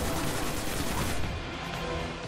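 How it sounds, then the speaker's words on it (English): In Destiny: The Taken King, a headshot bursts an enemy's head amid a dense, crackling volley of gunfire-like blasts that roar continuously for a couple of seconds, loud and close, then ease slightly. "You hear the head explode?"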